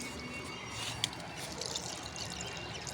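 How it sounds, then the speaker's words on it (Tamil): Water is poured into an organic fertilizer mixture, giving a steady, faint, continuous splashing trickle with one small drip-like knock, and no talk. "கொஞ்சம் தண்ணியை ஊற்றி வச்சிடுறோம்"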